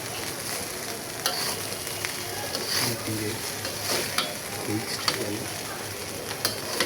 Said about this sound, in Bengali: এর মধ্যে এখন দিয়ে দিচ্ছি চিকেন। আরও একটা আইটেম দেব, তারপর এগুলো ভেজে নিই।